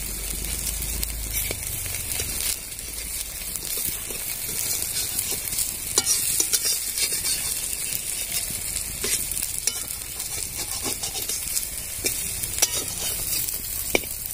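Pumpkin flower fritters fry in oil with a steady, close sizzle and frequent small crackles and pops throughout, plus occasional light scraping, with no voices.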